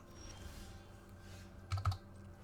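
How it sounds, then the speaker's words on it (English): A computer keyboard hotkey pressed during an MTG Arena game, two quick soft clicks close together near the end of an otherwise quiet stretch with faint background tones. "Just hit the hotkey on the keyboard here,"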